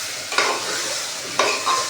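A guar (cluster bean) curry sizzles steadily in a frying pan, with two distinct scraping stir strokes close to the microphone. No one speaks.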